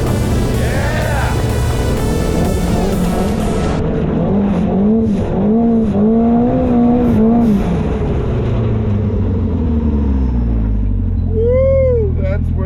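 A turbocharged Polaris Pro R four-seat UTV with an EVO big turbo tears through sand dunes, its engine revving hard and shifting with rising and falling whines, loud and close, then easing to a deeper rumble; voices shout over it.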